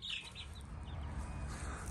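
Older chickens on a homestead cluck softly and intermittently under a steady low rumble of outdoor background noise.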